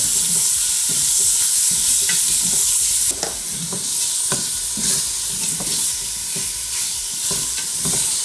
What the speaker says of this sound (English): sealing and searing the flavors of the seasoning that we added to the beef